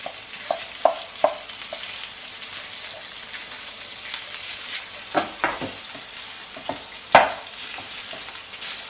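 Pork sausage browning in a pan, with steady frying sizzle under repeated stirring and scraping clicks of a utensil against the pan bottom, close and fairly soft.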